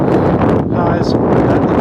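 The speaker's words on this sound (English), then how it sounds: "It is a wee bit windy" Strong wind buffeting the microphone with a constant roar on a steep, foggy hillside on Kirriereoch Hill, a person talking underneath.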